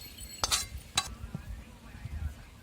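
Metal utensils clink sharply twice against a steel vessel as cooked cashew masala is transferred in a home kitchen, with softer scraping and low background noise after.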